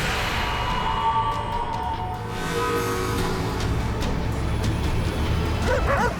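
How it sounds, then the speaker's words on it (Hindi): A dog barks at night near farm fields in Haryana, its yips rising over a steady rumbling background toward the end. "ये कुत्ता काहे भूख रहा है रे?"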